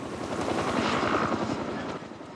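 A firefighting helicopter passes overhead during a wildfire, its rotor giving a loud, steady thudding chop with engine roar throughout, no voices.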